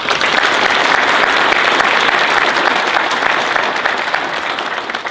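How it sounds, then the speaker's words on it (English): An audience at a fire academy graduation ceremony applauds, a dense, loud wash of clapping that holds steady throughout and tapers slightly at the end. "give them a round of applause this morning"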